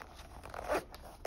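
A small zip pouch on a pencil case is zipped in one brief, quiet pull lasting about a second, close to the microphone and alone.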